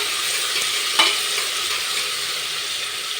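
Small capsicum pieces sautéing over a low flame for chicken mandi, a steady soft sizzle with one brief stir or clink near the start, close and continuous with no talk.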